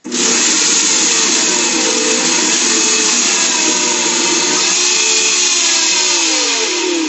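A food processor grinding nuts for no-bake power bites gives a loud, continuous whirring roar close by, holding steady with a slight shift in pitch as the nuts break down.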